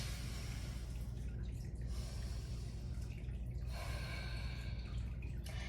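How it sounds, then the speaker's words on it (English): Ujjayi breathing during a slow-flow yoga session: a steady, close rushing breath drawn through a constricted throat, with ocean-like hiss swelling and easing in slow waves. "There's a slight constriction in the back of the throat, almost like the sound of an ocean wave."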